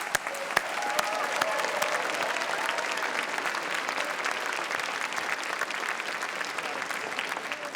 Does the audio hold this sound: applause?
yes